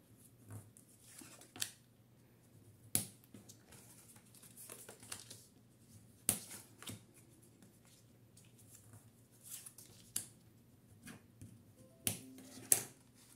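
Paper is scored along fold lines and creased by hand for a wedding scrapbook album page, heard as a series of faint, sharp scraping ticks and crisp snaps spaced a second or so apart in a quiet room.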